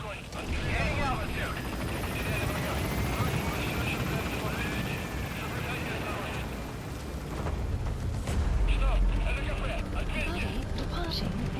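A helicopter in the Metal Gear Solid V video game lifts off, its rotor and engine roaring as a loud, continuous drone that swells near the end, with voices talking over it.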